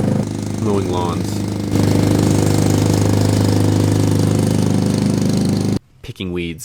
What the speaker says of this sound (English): Mowing lawns.